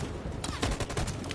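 A dense volley of gunfire in Detroit: Become Human, several overlapping shots packed into a brief, loud burst.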